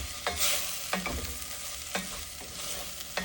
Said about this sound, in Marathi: आणि हे सुद्धा परतून घेऊया.